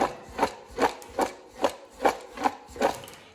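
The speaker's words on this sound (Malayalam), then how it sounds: "ഇതുപോലെ കൈ കൊണ്ട് നല്ല പോലെ ഒന്ന് മിക്സ് ചെയ്യുക കേട്ടോ" Papaya slices tossed by hand with salt and turmeric: seven evenly spaced, close rustling rubs in a steady rhythm, with no talking.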